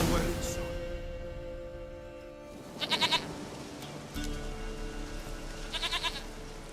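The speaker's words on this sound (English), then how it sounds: "Goat of mine, dearest, sweetest goat." Goat bleats sound in The Witcher 3: Wild Hunt, two short rapid wavering calls that stand out clearly over the game's music and ambience, with a voice speaking at the start.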